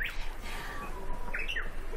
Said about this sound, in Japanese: ウグイスが近くで鳴いています